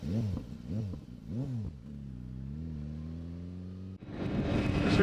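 BMW S1000RR motorcycle engine revving in short bursts, then holding a steady drone that rises slightly before a sharp, louder roar as it pulls away, close and loud with no talk.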